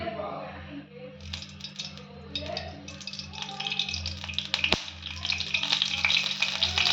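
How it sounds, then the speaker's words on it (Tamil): Spices temper in hot oil for a Tamil soya kothu curry, a close sizzle that swells and crackles more densely toward the end, with utensil rattles and one sharp clink midway, set against a low steady hum. "இப்போ நம்ம தாளிச்சு விட்டுடலாம்"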